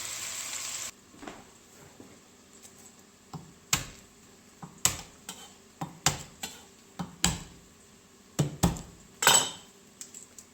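Garlic and ginger are chopped with a knife on a board for goat biryani, giving sharp, irregular chops of growing frequency over a quiet kitchen background.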